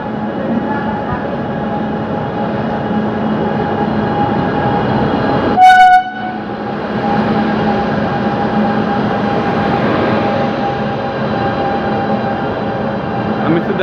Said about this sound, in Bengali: তো বন্ধুরা এখানে আমাদের ট্রেনটা আসছে।